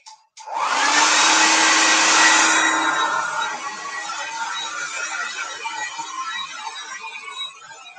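A hair dryer switches on after a click and blows loudly and steadily close by while drying a vintage bookmark, the roar easing slightly after a few seconds as it keeps running.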